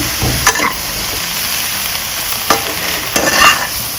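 Vegetables stir-fried in a hot pan just used for shrimp, with a steady loud sizzle and occasional scraping stirs of the utensil, close and continuous without talk.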